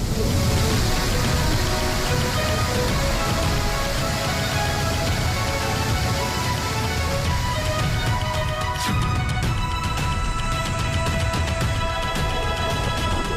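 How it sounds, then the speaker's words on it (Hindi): Heavy rain in Purulia, West Bengal, makes a dense, steady roar of loud, unbroken downpour throughout, with no voices. "पश्चिम बंगाल के पुरुलिया में भारी बारिश से तबाही की तस्वीरें आ रही हैं।"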